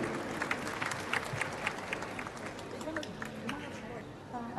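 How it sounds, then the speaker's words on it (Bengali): Audience applause at the Ekushey Television 24th CJFB Performance Award 2024 ceremony, a fairly faint, steady patter of clapping with voices talking over it. "একটা জোরে করতালি দেন এই মামনিটার জন্য"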